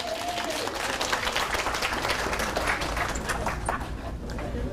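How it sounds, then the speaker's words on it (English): Audience at an inspirational keynote on personal well-being applauds steadily throughout, a dense, even wash of many hands clapping in a large hall, with no voices standing out. "Give him a round of applause."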